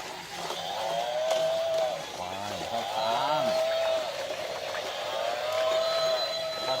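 A water buffalo at a poolside water park gives a couple of low, drawn-out moos close by, mixed with background chatter and other sounds.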